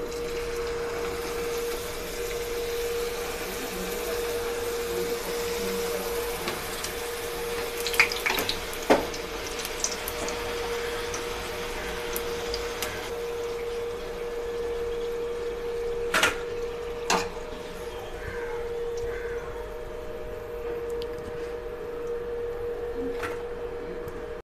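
Moong dal papad-style snacks frying in a pan of hot oil, a steady bubbling sizzle running throughout with a few sharp crackles and pops standing out near the middle.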